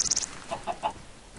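A chicken in the video game Minecraft gives a few short, soft clucks in quick succession, close and fairly quiet, with a brief high chirp at the start.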